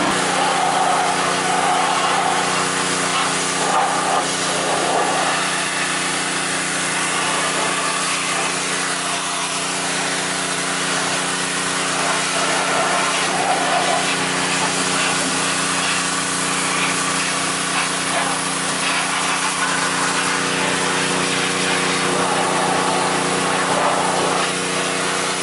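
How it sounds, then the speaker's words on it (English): A pressure washer blasts dirt and grime off the frame of an old barn-find car being detailed, giving a loud, steady hissing spray over a constant motor drone for the whole stretch, with no talking. "you want to power wash everything"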